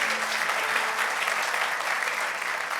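A church congregation in New York claps loudly and continuously, a thick, even wash of many hands filling the space from start to finish with no talking over it.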